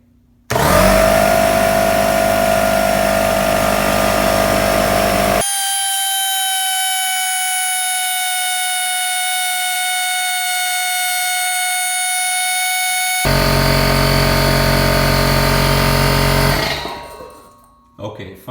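A Bostitch BTFP2KIT nailer-combo air compressor runs loud and steady, its motor drone shifting to a sustained high whine midway, then resuming before winding down and cutting off near the end.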